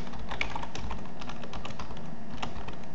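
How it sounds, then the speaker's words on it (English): Fingers tapping on a computer keyboard in quick irregular bursts, close and fairly soft, with no one talking. "I keep typing the wrong thing."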